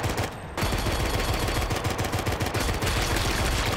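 Rapid, loud gunfire from the video game Drawn to Death, a dense stream of shots in quick succession with a brief gap near the start.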